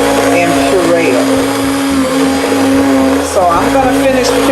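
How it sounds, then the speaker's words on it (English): An immersion blender purees butternut squash soup, its loud steady whirring drone running the whole time with small pitch dips as the blade moves through the pot. "as I take the immersion blender and puree it"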